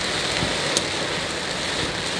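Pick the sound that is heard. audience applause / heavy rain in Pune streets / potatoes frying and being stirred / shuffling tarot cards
heavy rain in Pune streets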